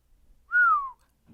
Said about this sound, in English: Leo whistled.